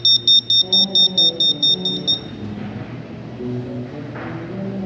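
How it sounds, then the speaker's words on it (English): A museum flight simulator exhibit gives a rapid string of about nine loud, high electronic beeps in quick even succession, followed by a lower mechanical hum. "Well, it beeped at me."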